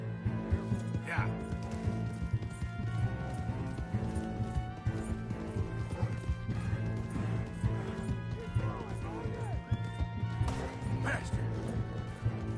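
Horse hooves in the video game Red Dead Redemption II, steady galloping clip-clop under a continuous game soundtrack and background clatter, with a player talking over it.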